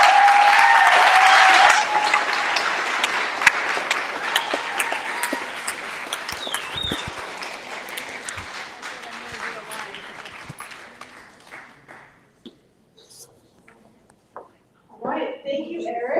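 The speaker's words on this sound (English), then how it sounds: "Just give him another clap." Audience applause after a speech, loud sustained clapping from a crowd that slowly thins and fades out, with a voice speaking briefly at the end.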